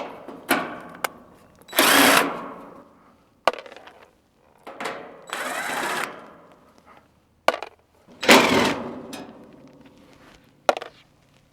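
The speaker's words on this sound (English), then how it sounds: "And then you just take off the screws for your panel." A power drill removes screws from an air conditioner panel, whirring in several short, loud bursts separated by pauses, with clicks and handling noises between runs.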